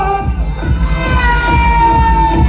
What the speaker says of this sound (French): je vais vous entendre crier pour cette folle descente